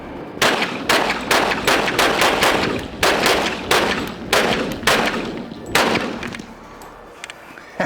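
An FN .45 pistol fires in a rapid string of about a dozen loud, sharp shots at uneven spacing, with echoing reports outdoors and no speech.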